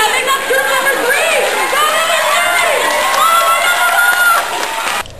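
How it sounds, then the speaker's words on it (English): Spectators, many of them children, cheer and shout loudly and continuously during a children's race, a dense high-pitched crowd roar with whoops and scattered voices that cuts off abruptly at the end. "let's cheer them on"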